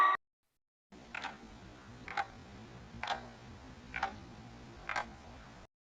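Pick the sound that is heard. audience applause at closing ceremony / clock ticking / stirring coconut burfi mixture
clock ticking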